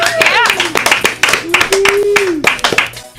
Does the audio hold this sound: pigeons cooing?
no